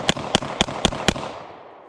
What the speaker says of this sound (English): Archer's going to try him a bill drill with his Glock 20, see how he does.